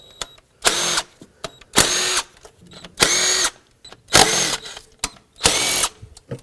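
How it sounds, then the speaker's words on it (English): Power tool spinning out 12mm intake bolts and nuts on a 2003-2007 Nissan Murano, five loud whirring bursts of about half a second each with short gaps, close up and no talking. "remove all the bolts and nuts that hold this intake down at the front here"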